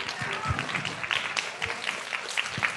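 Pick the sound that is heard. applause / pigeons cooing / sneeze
applause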